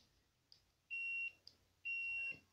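A continuity tester beeps during a transformer continuity test, two sustained shrill electronic beeps of about half a second each with short clicks before them, quiet and close, with no speech.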